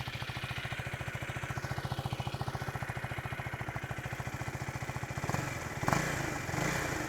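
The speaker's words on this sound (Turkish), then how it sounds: "Motorun çalışma sesini de dinleyelim." A 2024 Husqvarna Svartpilen 250 with a single-cylinder 250 cc engine idles close by with a steady, even thumping pulse, then gets a brief throttle blip near the end.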